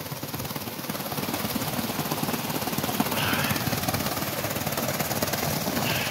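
A loud helicopter passing low overhead near a monument, its rapid rotor chop pulsing steadily and growing slightly stronger midway, with no talking.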